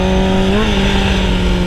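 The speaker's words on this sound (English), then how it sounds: "we're just gonna give it a shot of gas and let go of the clutch" A motorcycle engine drones loud and close, rising slightly in pitch partway through as the throttle is blipped and the clutch released for a wheelie.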